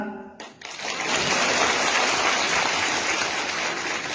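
A crowd at a political youth rally breaks into sustained clapping after a brief quiet moment, dense and loud, continuing evenly to the end.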